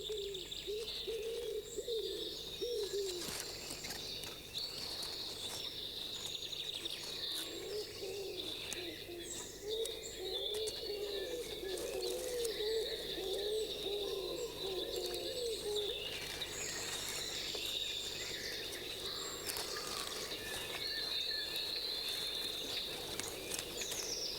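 Birds call steadily from hedgerows around a house where a family of goldfinches lives, with soft cooing and scattered chirps and tweets carrying through a quiet outdoor background.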